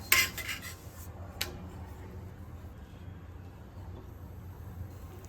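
A pathiri flatbread being flipped in a hot pan, giving a sharp metallic clatter at the start and another brief scrape, then a low steady sizzle and hum.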